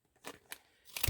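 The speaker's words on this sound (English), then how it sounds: "you can just kind of go around here and cut them off." Scissors cut out recycled plant tags in a few quick, quiet snips, close and clear with no talk.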